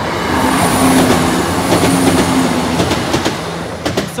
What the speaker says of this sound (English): Train's already here.